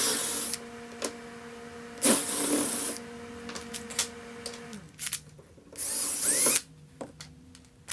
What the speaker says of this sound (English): I mark the center and use a spade bit to recess a hole in the block.